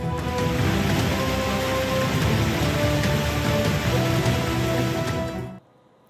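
Heavy monsoon rain during flooding in India, a dense, loud, steady hiss of downpour that holds for several seconds and then cuts off abruptly, with no talking.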